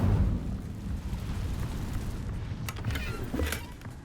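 Incendio fire spell cast in Hogwarts Legacy, a broad roaring whoosh of flame with low rumble, ending in a few sharp crackling bursts near the end.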